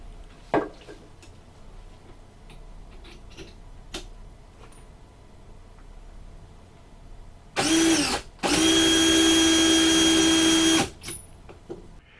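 A case trimmer cuts a cartridge case to length with a brief motorized whir, a short pause, then a longer steady high-pitched buzz of about two seconds, preceded by faint scattered clicks of handling.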